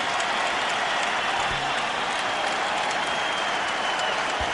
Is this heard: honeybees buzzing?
no